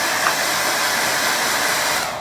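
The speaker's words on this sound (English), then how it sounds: "Where is my air dryer? Yeah," Steady broadband whoosh of a hair dryer blowing close by, constant and loud, with no voices.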